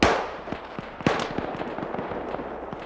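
Gunfire from AI soldiers opening fire in a video game comes as scattered pops and cracks at moderate distance, with one sharper, louder shot standing out among the irregular bursts.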